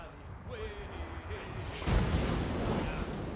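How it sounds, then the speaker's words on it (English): Cannons firing in the Total War video game, a deep booming blast that swells into a rumbling roar over a continuous battlefield din. "Fire the cannons!"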